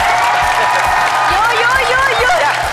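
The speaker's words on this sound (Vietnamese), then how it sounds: "Một tràng vỗ tay thật to dành cho 3 thành viên của đội đơn giản." A television game show studio audience gives a loud, sustained round of applause with cheering for a three-member team, while a host's voice rides over the dense clapping.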